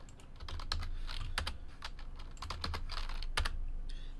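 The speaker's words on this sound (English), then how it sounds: "I'll type TWC in the chat." Rapid typing on a computer keyboard during a baseball card break stream, a steady close run of light clicking keystrokes with brief bursts and pauses, no voices.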